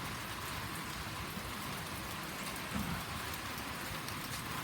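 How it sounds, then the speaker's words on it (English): Steady rain hisses continuously, an even, dense patter close by with no voices. "So been a good rain."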